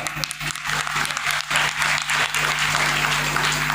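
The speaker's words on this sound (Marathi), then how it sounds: "टाळी वाजवा एकदा" An audience at a Marathi kirtan in Shirso, Murtizapur bursts into sustained, dense applause that carries on steadily for several seconds.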